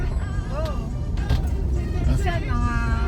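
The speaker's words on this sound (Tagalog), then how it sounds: "Traffic sa Metro Manila." Heavy road traffic rumbles through a rainy evening commute in Metro Manila, a steady low drone of idling and creeping vehicles with a few brief horn-like tones, while people chat nearby over it.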